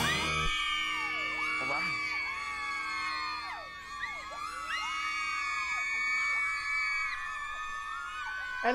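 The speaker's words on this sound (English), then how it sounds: "And the crowd's going wild." A live-show crowd cheers steadily while girls scream in many high, sweeping shrieks, a dense wall of whoops and squeals lasting throughout.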